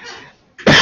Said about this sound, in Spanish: vaya la tos